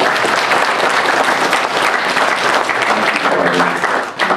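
Audience applause at a comic convention interview panel fills the room, a dense, steady clapping that stays loud throughout before easing slightly near the end.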